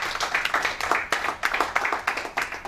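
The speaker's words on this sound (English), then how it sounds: "please give her a round of applause" An audience at a real estate talk gives a round of applause, a modest group of hands clapping in uneven pulsing bursts, heard alone.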